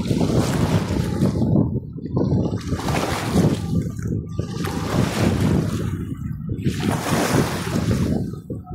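Strong sea waves rolling onto a Kuwait City seaside beach, loud surging washes that rise and fall in roughly four broad swells, with heavy wind buffeting the microphone throughout.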